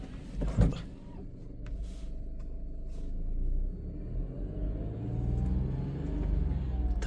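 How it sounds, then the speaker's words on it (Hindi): A car engine started and left idling to warm up, a low steady rumble with a few clicks and knocks near the start, close by with no talk. "यहाँ पे मैंने गाड़ी को स्टार्ट कर दिया थोड़ा गर्म दे रहे हैं"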